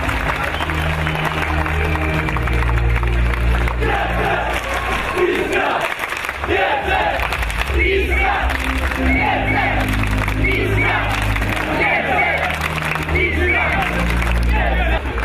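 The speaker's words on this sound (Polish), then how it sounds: "Jeszcze raz wielkie, wielkie brawa!" A large outdoor crowd of fans at a town square celebration for the Polish handball champions cheers and applauds continuously, a dense roar with clapping layered under an amplified announcer's voice.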